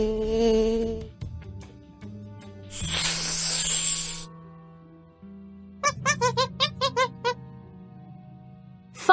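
Cartoon-style snake hissing in a Paw Patrol jungle rescue game, a loud hiss of about a second and a half between musical game tones, followed by a quick run of chirpy sound effects.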